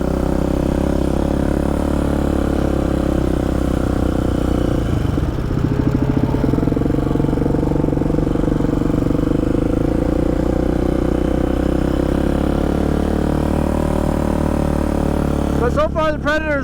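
Predator-engined off-road vehicle cruising at easy pace along trails, a steady mid-pitched engine drone with clattering running throughout, close and continuous.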